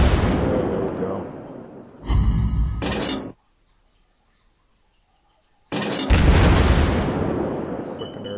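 Gneisenau's secondary guns boom in World of Warships Blitz: loud, heavy blasts with long rumbling decays arrive in bursts, separated by a near-silent gap, and a voice talks in the background.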